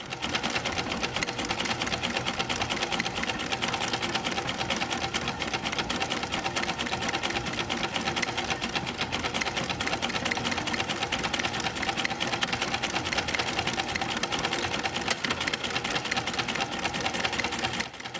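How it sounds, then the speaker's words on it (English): Embroidery sewing machine stitching steadily for the whole stretch, a dense, even mechanical whir with rapid needle chatter, close and continuous with no voices. "Whether you embroider by hand or with the help of a machine like this"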